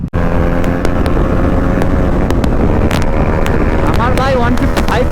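A 155 cc motorcycle runs at full throttle on an open highway, its engine droning steadily beneath loud, continuous wind rush.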